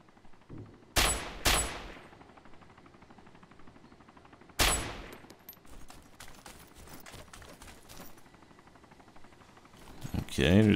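Several loud, sharp gunshot bursts ring out in the video game DayZ OverPoch, a close pair then another a few seconds later, with quieter game sounds between and a final burst of fire.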